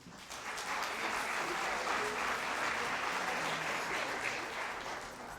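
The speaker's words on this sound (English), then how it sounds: "So please, another round of applause for them." Sustained applause from an audience at a junior high school spring concert, a steady dense wash of clapping holding evenly for several seconds and tapering slightly at the end, heard from within the hall.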